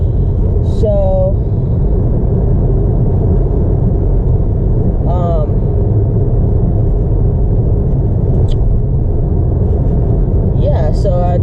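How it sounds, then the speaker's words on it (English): A car is driven along, its engine giving a constant low rumble under the whole stretch, with someone speaking intermittently over it from inside the cabin. "so I'm just gonna take the car"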